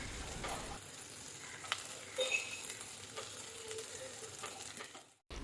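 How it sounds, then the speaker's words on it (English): Green chilies fry in a pan over a medium to high flame, giving a faint, steady sizzle with light stirring scrapes and a couple of brief clicks, with no talking. "I'll be frying all of this on medium to high flame for another 1 minute"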